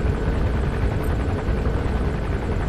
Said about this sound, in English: See what kind of helicopter it is.